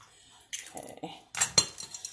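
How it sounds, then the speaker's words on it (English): A small metal fork clinks and scrapes against a bowl while breaking egg yolks, giving a few sharp taps and stirring bursts with short pauses between them, close up with no talking. "got a little fork. Just break the yolks."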